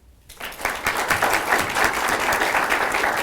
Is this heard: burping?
no